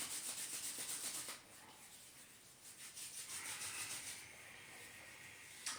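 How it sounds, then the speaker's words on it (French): Hands rub together briskly during a seated stretching exercise, a soft close hissing friction that comes in bursts with brief pauses, fairly quiet and with no speech. "On frotte les mains."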